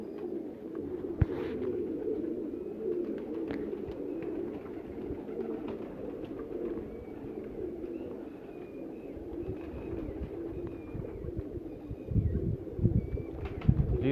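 Pigeons coo in soft repeated low calls, close by and fairly faint, with occasional chirps and a brief flutter or knock near the end; no voices are heard.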